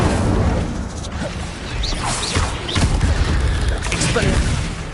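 Spellcasting combat in Hogwarts Legacy against spiders, with dense fiery whooshes, bursts and crashing impacts layered over game music, loud and continuous, with a voice speaking throughout.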